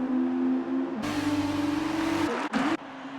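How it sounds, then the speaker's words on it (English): Formula One race car from F1 2019 at Hungary pulling into the pit lane: a steady high engine whine that drops in pitch as it slows, with a burst of broadband noise and a brief cut near the end. "Whiffy Winner dives into the pits."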